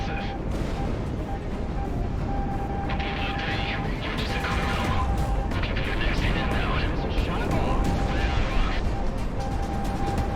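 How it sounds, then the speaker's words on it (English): Missiles streak in and explode around the player's aircraft in the jet combat game Project Wingman, a dense, steady rumble of blasts and engine roar with a sustained warning tone running throughout. "Oh my god, look at all these missiles coming for me."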